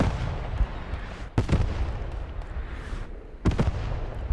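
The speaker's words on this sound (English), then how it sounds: "Artillery, this must be German arty." Distant German artillery thunders across a World War battlefield in an online ladder match, two heavy broadband booms standing out over a constant rumbling din of gunfire and battle noise.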